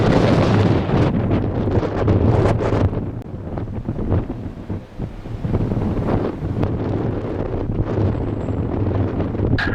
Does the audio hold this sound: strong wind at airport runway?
yes